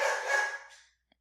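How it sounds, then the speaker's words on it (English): A dog barks in the background of a home recording, a short loud burst that fades over about a second, alone with no talk. "that's my dog barking in the background if you can hear."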